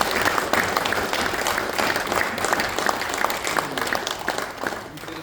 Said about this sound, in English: a huge round of applause for Kaylee